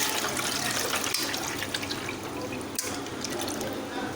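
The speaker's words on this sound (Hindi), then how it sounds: "हम सबसे पहले इसमें जो हमारे पास पानी था और गरम मसाला था वो हम सारा इसमें ऐड कर देंगे।" Water mixed with garam masala poured into a cooking pot for yakhni, a continuous splashing pour with a couple of brief clanks against the pot, close and fairly loud.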